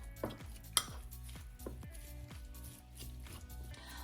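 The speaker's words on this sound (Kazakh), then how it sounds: "Араластырамыз." A spoon scrapes and clinks rhythmically in a bowl while stirring a tuna, onion, black pepper and salt filling, a steady series of close metallic knocks and scrapes without talk.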